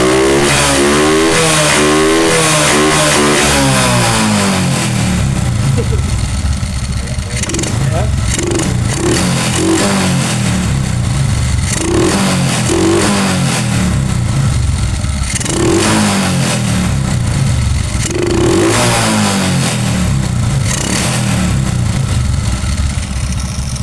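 A Honda Supra 125 motorcycle engine with a carburetor fault is revved repeatedly, rising and falling in several bursts over a rough idle, loud and close, with someone talking between revs.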